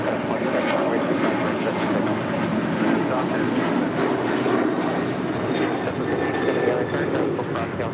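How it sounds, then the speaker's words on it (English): An Airbus A380 on short final approach to runway 24L at LAX gives a steady, loud broadband roar that holds throughout, with faint radio talk mixed in. "The A380 Super now short final for 2-4 left."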